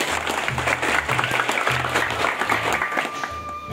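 An audience claps for a company at a Malaysia job interview session, a steady mid-level patter of hands throughout with a low voice murmuring underneath.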